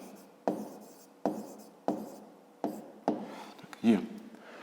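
Pen writing out the answer to a fifth-grade math word problem on paper: six short scratchy bursts of handwriting, each starting with a sharp tap, close and quiet, with no talking.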